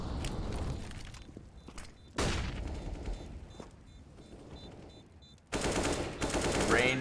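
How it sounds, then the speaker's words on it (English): Rapid bursts of AK rifle fire from a Counter-Strike esports match, loud and dense, starting near the beginning and returning in heavier volleys toward the end, with commentators talking over the shooting. "Rainwaker and Duplicate able to use their AKs to stave off any retake Sprout had in mind there"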